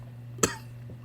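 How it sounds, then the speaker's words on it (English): A single short, close cough from a dying man, voiced by a narrator acting out the sound against a quiet background. "He did not answer, only coughed."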